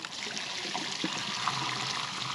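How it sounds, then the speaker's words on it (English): Muddy water gushes out of a pump in a steady, close splashing stream, a continuous watery rush without talk. "look at that muddy water coming out"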